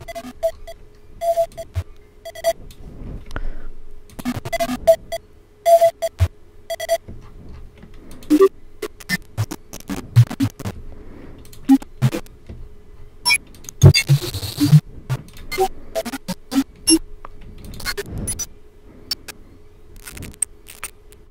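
Glitchy digital artifacts from Spleeter source separation, boosted in gain: sparse clicks, stuttering bursts and short tonal blips in irregular rhythm, harsh and loud, with no voice.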